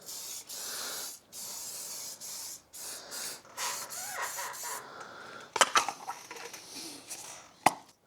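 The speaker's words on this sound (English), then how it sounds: "So I just have some rust converter stuff. Just going to spray it all over just for fun." Rust converter sprays from an aerosol can in a series of hissing bursts, several short pumps then longer sprays close by, followed by a few sharp clicks and knocks.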